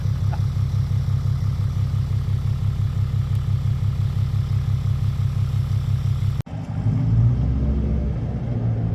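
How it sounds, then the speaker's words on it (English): A truck engine idles while warming up in snowy weather, a steady close low rumble with a regular pulsing beat, cut by a sudden thump near the end before a rougher, louder idle resumes. "time to get the truck warmed up and get headed to the track"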